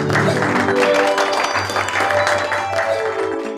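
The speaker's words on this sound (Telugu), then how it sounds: "మనందరం చప్పట్లు కొట్టి వారిని ఆహ్వానిద్దాం" Audience applause rises as a pastor comes forward to receive a doctorate certificate at a university ceremony, with steady, dense clapping that holds for several seconds.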